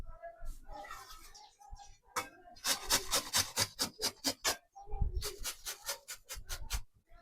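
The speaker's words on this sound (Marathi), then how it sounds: "अगोदर मी कैरी किसून घेते." A raw green mango is scraped across a kitchen grater in quick rhythmic bursts of rasping strokes, close and fairly soft, with short pauses between runs.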